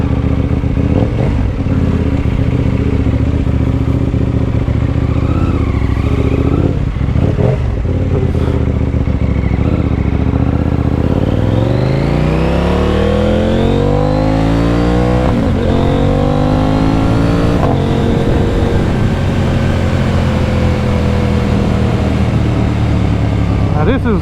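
A 2020 KTM Duke 890R motorcycle engine revs and climbs through rising gears, loud and close, with wind rush and a voice talking over it for most of the stretch.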